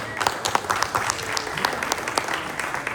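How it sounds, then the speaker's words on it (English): A crowd claps steadily nearby at a celebration at Orlando International Airport, a dense patter of many hands keeping up for a few seconds. "Another round of applause."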